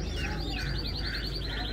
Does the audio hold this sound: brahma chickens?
yes